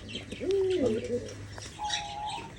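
Domestic pigeons cooing in a loft, with a low rolling coo near the start and another call later, mixed with chirps and faint background activity.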